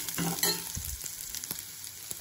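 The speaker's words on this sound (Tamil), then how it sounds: "கருவேப்பிலை போட்டு" Curry leaves frying in hot oil for a palak potato dish, giving a close, steady crackling sizzle with a few sharper pops early on.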